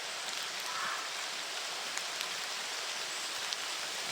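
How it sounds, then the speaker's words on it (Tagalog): Steady rain falls heavily outdoors, a continuous dense hiss with a few faint drips standing out, alone and without talk. "Ulan na dito. Buta na kami ng ulan."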